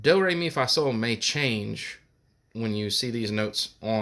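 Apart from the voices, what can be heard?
None of the usual background noises is heard.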